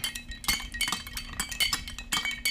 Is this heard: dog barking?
no